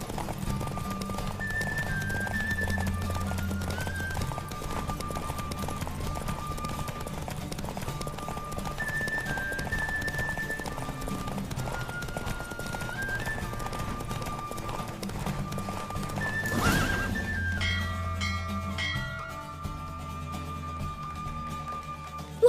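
Rhythmic hoofbeats of a galloping horse run steadily with a horse neigh during a race in The Witcher 3: Wild Hunt, set against game-like music and tones, ending in a brief burst of noise.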